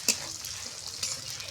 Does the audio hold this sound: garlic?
yes